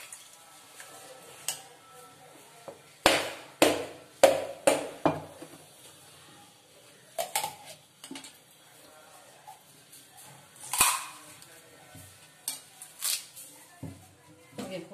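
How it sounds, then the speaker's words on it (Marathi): A coconut is struck with a stone grinding pestle, giving a quick cluster of five or six sharp, close knocks, then a few scattered softer knocks and handling clatter over a quiet kitchen background. "याचं वरवंटा घेऊन फोडलं ना की लगेच फुटत"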